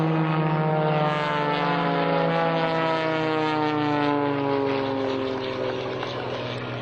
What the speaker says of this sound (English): watch the both airplanes go vertical hook flying